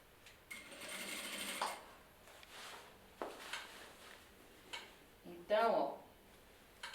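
Sewing machine stitching boning onto a party dress, short faint bursts of running stitches, with the loudest run near the end, separated by pauses and handling sounds.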